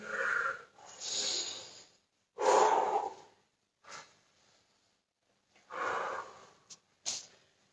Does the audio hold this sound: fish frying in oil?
no